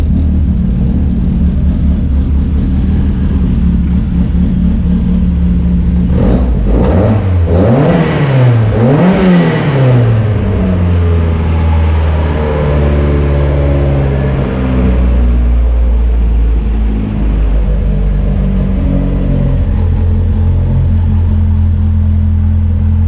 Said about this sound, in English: just give it 1 or 2 revs for me